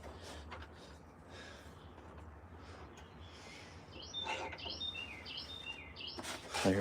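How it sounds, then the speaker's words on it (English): Bright chirpy song of a Carolina wren rises from a quiet outdoor background, several short whistled phrases in the second half, moderately distant, with a louder rustle at the end. "I hear a Carolina wren or something"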